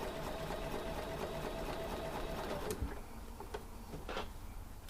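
A sewing machine stitches a seam with a steady mechanical hum and rapid needle chatter, close and even throughout, then a few clunks and a slight easing near the end, with no talking.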